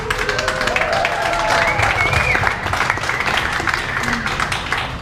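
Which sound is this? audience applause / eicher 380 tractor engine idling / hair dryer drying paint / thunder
audience applause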